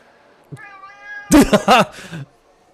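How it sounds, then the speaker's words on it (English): A cat meows a few times indoors, starting with a short chirp, then a long drawn-out call followed by several loud, close, wavering meows that fade out. "Who was asking about the cat last week?"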